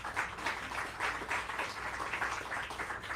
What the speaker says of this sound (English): And you're clapping for yourselves, really